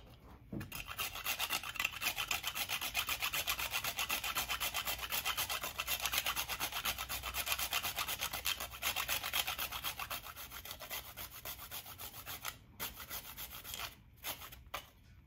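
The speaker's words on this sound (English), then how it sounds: "I'm gonna grate half of this nutmeg." Whole nutmeg scraped on a grater in a home kitchen, a steady rasping rub that runs continuously for most of the time and then breaks into a few short strokes near the end, close and alone.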